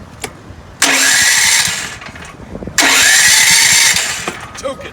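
A Briggs & Stratton gasoline generator in a food trailer is started twice with an ignition key. Each start is a loud, abrupt burst that rises into a steady engine roar, then tapers before the second start.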